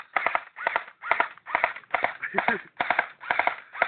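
A child's toy gun fires in repeated bursts of sharp rattling pops, about nine evenly spaced volleys separated by brief gaps, loud and close.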